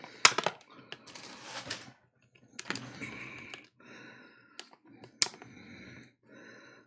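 Plastic zip ties being handled and snapped on audio cables in a studio, giving a series of sharp close clicks and rustling bursts with short pauses between them, no talking.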